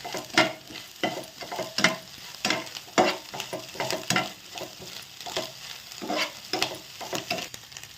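Egg potato fry being stirred in a hot pan with chopped coriander, a steady sizzle broken by repeated scraping stirs in an uneven rhythm, close and fairly loud, with no talking.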